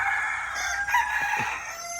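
Chickens in a backyard poultry coop with round and separate enclosures: a near crowing call with clucking over a steady hum, brief and fairly loud, with no talking.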